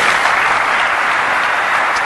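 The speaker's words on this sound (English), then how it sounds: "The audience applauds" Audience applause in a television studio discussion show, a steady dense wash of clapping that stays loud and close for the full two seconds with no voices over it.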